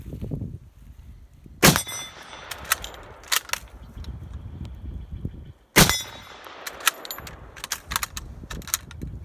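A Berthier M-16 carbine chambered in 8mm Lebel fires two sharp shots several seconds apart, each followed by metallic clinks and rattles of the action and handling between them.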